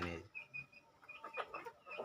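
Country hens on a small poultry farm cluck in short, soft bursts close by, including a young hen that has begun laying, with faint background noise and no speech.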